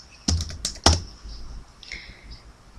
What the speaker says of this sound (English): You can just start typing over it, which will replace the word